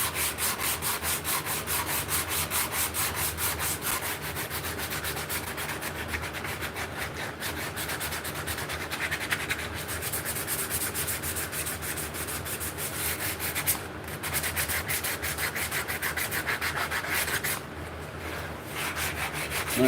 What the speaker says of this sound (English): we're just running this through our belt sander right now